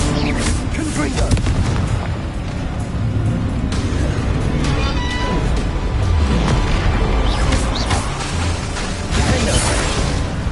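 A Confringo fire-blast spell in Hogwarts Legacy booms in a dense, loud rush of explosive rumble that stays heavy and continuous, with sharp cracks flaring over the roar.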